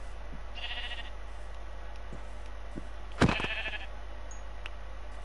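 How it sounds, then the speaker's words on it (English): Sheep in the game Minecraft bleat, a short wavering call early on and a louder, sharper bleat midway, over a steady low background hum. "Come here, sheep."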